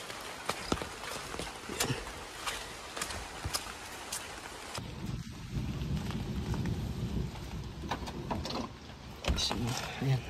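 Steady rain pours outside near a parked vehicle, hissing on surfaces with a low rumble of thunder building in the second half, while faint voices and clicks sit under the downpour.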